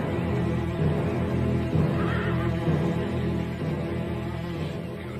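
Several horses neigh and whinny in a classic Western cavalry setting, their shrill calls overlapping above a steady low rumble, fairly close and loud, with no talking.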